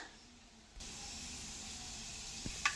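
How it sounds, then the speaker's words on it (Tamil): Fenugreek seeds hit hot oil in a kadai and set off a soft, even sizzling hiss that begins suddenly and continues steadily, with a light knock near the end. "எண்ணெய் சூடாயிடுச்சு. இது கூட வெந்தயம் சேர்த்துக்கலாம்."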